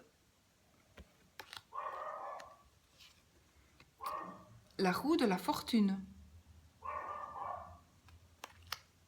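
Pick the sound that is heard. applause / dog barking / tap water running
dog barking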